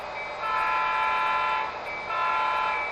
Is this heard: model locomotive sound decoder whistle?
yes